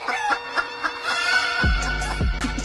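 Chickens cluck repeatedly in a busy, overlapping chorus. A few low thumps come in toward the end.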